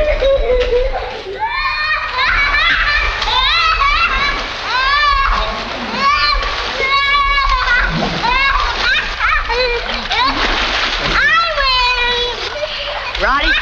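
Children swim and splash in water, sending repeated bright splashes while their excited voices chatter and shout nearly throughout.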